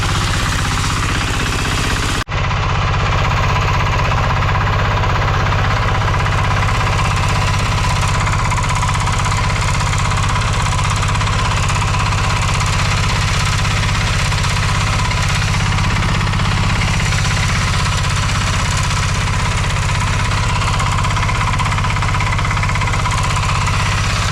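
A Kentavr MB 2060D diesel walk-behind tractor fitted with a rotary tiller runs loud and close with a steady knocking idle, and it is leaking oil.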